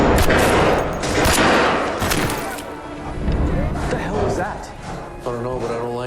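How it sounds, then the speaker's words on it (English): Bursts of gunfire crack sharply in quick, irregular volleys, loud and close, with booming echoes trailing off. "was gunfire."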